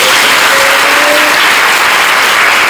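A crowd at a temple festival gathering claps together in loud, sustained applause lasting a few seconds, heard close and filling the space without speech.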